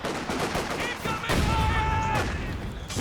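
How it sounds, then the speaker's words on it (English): A landmine detonates during a Company of Heroes 2 battle, a sudden blast among rattling gunfire and further booms, with a commentator's voice faintly underneath. "landmine detonation"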